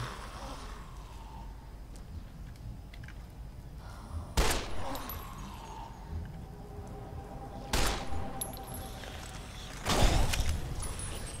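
Gunfire in the video game Fallout: New Vegas: three sharp, loud shots spaced several seconds apart, each ringing briefly over a low game ambience.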